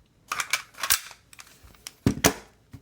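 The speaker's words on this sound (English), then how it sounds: "take the magazine out, open the gun" A handgun with its magazine removed being opened, several sharp close-up metallic clicks and clacks in two quick clusters, with no voices over them.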